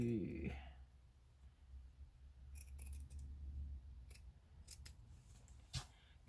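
Scissors snip fabric trimmed with eyelash fringe, several crisp, quiet cuts spaced irregularly, close by, with brief rustling in between.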